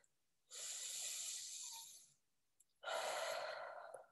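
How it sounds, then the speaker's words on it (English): Two deep, slow breaths, a long airy inhale followed by a breathy exhale, close to the mic and otherwise quiet. "Now you close your eyes and take a deep breath."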